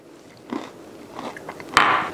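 Close, crisp crunching as freeze-dried cereal bars of Fruity Pebbles, Cinnamon Toast Crunch or Cheerios are bitten and chewed, a few soft chews building to one sharp loud crunch near the end, with no talk.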